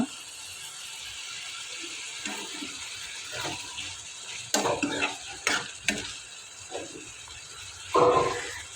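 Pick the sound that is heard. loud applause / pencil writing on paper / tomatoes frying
tomatoes frying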